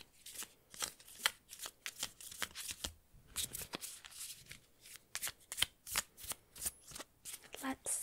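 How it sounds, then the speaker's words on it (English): A deck of cards is shuffled close up in quiet, repeated riffles and soft slaps, a steady rhythm of brief crisp bursts with a faint voice now and then. "Do you want me to pull a card at random for you?"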